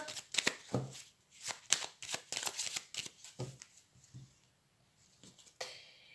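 Tarot deck shuffled and cut by hand at close range, producing quiet, crisp bursts of riffling and card slaps with brief pauses between them.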